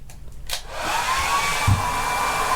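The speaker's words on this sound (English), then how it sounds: "So, hairdryer on." A hairdryer powered by a VTOMAN FlashSpeed PRO 3600 portable power station clicks on and settles into a steady, loud blowing whir with a faint high whine.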